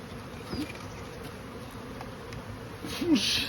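Honeybees buzz faintly around a hive being moved during a switch from National to Langstroth boxes outdoors, a low continuous drone with a couple of individual bees passing close.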